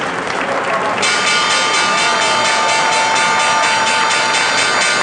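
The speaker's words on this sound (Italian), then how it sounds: "Eccola qui, la campanella di Wall Street, la borsa americana apre" The Wall Street opening bell rings continuously and loudly for several seconds at the stock exchange, following a brief stretch of applause from the trading floor.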